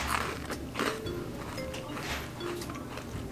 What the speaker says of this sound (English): Do you hear that crunch?